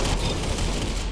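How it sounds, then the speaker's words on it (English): Concussion rifle blasting in the Roblox shooter Arsenal, a dense, continuous roar of rapid booming discharges that holds steady and loud for the whole moment with no pauses. "The concussion rifle. Favorite gun in the game."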